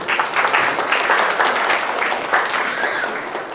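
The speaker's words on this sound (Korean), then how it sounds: "다시 한번 큰 박수 부탁드리겠습니다" Wedding guests at an international Korean-Vietnamese ceremony give a hearty round of applause after a congratulatory song, a full, even patter of many hands throughout.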